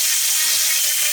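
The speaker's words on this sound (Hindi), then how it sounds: "ब्लैक एंड डेकर ने अपना काम कर दिया है और पूरा का पूरा ड्रिल मशीन घुस चुकी है" A Black+Decker KR554RE drill machine bores into a wall, a loud, steady high-pitched whine that stays constant throughout with no speech.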